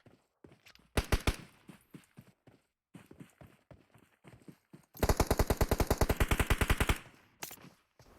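PUBG esports match gunfire, with a few single shots followed by a long, rapid automatic burst of evenly spaced shots, loud and close, with softer footsteps between.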